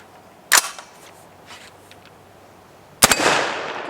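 Two loud, sharp gunshots from a 50-caliber AR-15 rifle ring out about two and a half seconds apart, the second followed by a long echoing tail outdoors.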